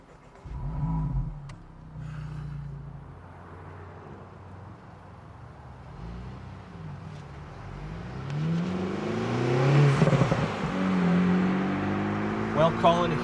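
A 2024 Acura Integra Type S with its North American exhaust system, the engine droning and rising as the car accelerates, with revs climbing and falling beneath ongoing conversation inside the cabin.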